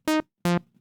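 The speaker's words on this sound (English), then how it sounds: "here I've got this basic wavetable patch just playing a few notes" A basic wavetable synth patch plays two short, evenly spaced sustained notes with bright harmonics and clean, abrupt starts and stops, alone and up close.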